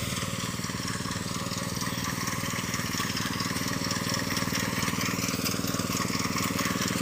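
Engine of a rice harvesting machine running steadily in a paddy field at harvest, a constant close mechanical drone with a low rhythmic throb that holds even throughout.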